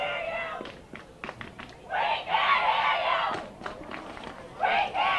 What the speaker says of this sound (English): the fans are kind of cheering back and forth